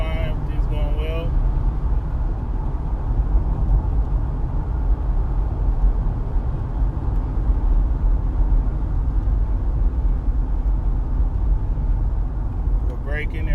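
A 2002 Nissan Pathfinder SE cruising at highway speed, with a steady low engine drone and road and wind roar from inside the cabin, continuous and fairly loud throughout.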